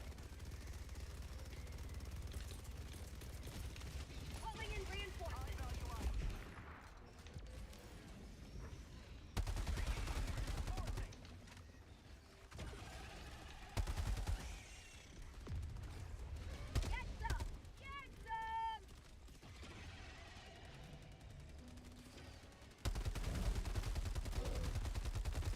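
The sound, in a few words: gunfire from the video game The Finals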